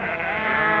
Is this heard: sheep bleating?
yes